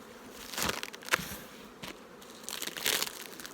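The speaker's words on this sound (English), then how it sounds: "I just can't figure how it's possible for these bees to do so much work." Honey bees buzz around hive boxes filled with honey, a soft continuous hum with crackling and rustling bursts from handling the frames, close and fairly quiet.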